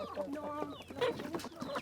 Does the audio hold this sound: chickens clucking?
yes